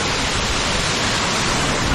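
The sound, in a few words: waterfall near Tiger's Nest Monastery trail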